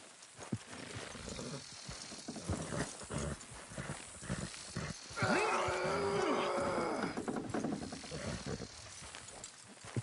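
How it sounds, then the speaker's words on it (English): In the game Red Dead Redemption 2, steady clip-clopping hooves of horses pulling a wagon, with rattling and creaking over a rough background, and a horse's whinny cutting through midway. "Good horses."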